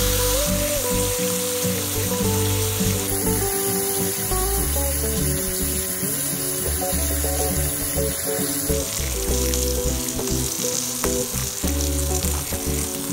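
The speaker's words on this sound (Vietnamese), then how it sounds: "Cho bít tết vào chảo và chiên." Beef steak searing in a hot pan gives a constant sizzle and crackle, with music playing loudly throughout and no talking.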